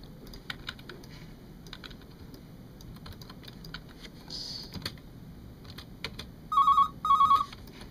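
Two short electronic telephone rings sound near the end of a radio spot, following a stretch of keyboard-like tapping and clicks under a low background murmur.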